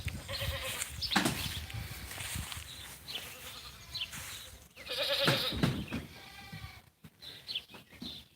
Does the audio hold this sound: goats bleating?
yes